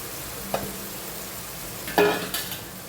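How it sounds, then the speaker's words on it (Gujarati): Ridge gourd added to hot oil with asafoetida, a constant close sizzle with two sharp bursts of louder spitting as the pieces hit the pan and are stirred. "સહેજ હિંગ એડ કરીશું. હવે ગલકા એડ કરી દઈએ."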